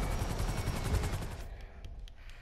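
Video-game gunfire in rapid repeated bursts, loud and close, then cutting off into a few sparse distant shots over a quieter background.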